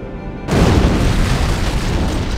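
An antimatter charge detonates aboard a starship in Halo: Combat Evolved, a sudden loud boom after a quiet start that rolls into a sustained, dense roar of rumbling destruction lasting to the end.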